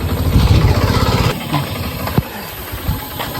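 A motorcycle engine idles close by with a low, rumbling throb that eases off partway through, with a few faint clicks.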